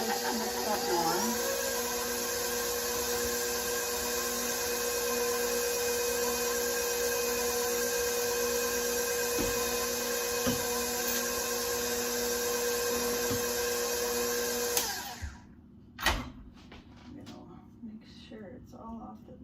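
An electric mixer whips cream for a New York cheesecake. Its steady, high motor whine runs loud for about fifteen seconds, then cuts off abruptly, leaving a few faint clatters.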